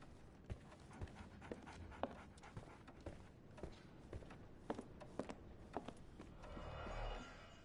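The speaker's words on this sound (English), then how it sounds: "So, Barnes has a dog now." A dog pants in the video game Sherlock Holmes The Awakened, faint, quick, rhythmic breaths repeating at a steady pace, with a soft rustling swell near the end.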